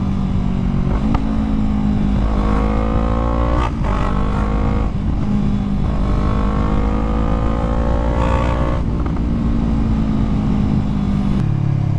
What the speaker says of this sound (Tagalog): So ang kuha ng motor is Click 125 na version 3.